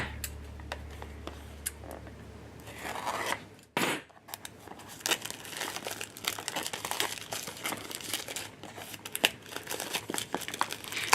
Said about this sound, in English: let's just cut this thing open, see what's inside